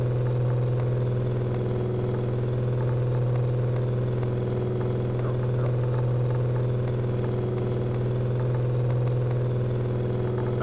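Mercedes-Benz 560 engine running on a test stand in Car Mechanic Simulator 2015, a steady droning hum with a constant pitch and faint ticking clatter throughout, no voices.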